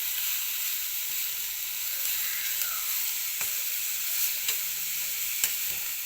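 Vegetable thoran made with papaya sizzles in a pan while being stirred, a steady high frying hiss with occasional soft scraping strokes, close and without voices.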